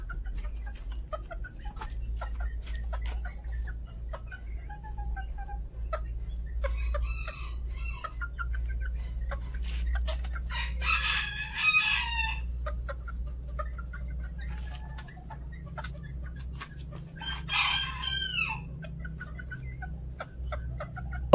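Chabo and Kate bantam chickens on a contest-breeding farm in Brebes cluck steadily while a rooster crows loudly twice, over a constant low hum and a busy flock backdrop.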